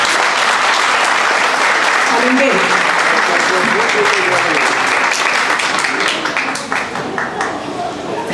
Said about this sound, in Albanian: Një duartrokitje të fortë desha dhe për dy ambasadorët